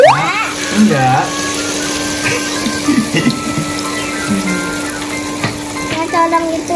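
Tempeh frying in hot cooking oil in a home kitchen, a steady crackling sizzle with bursts of popping spatter running throughout, while voices talk over it.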